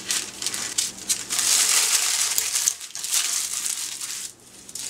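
Scissors cut paper circles to line cake pans, giving a close, continuous crisp snipping and crinkling rustle that runs for several seconds.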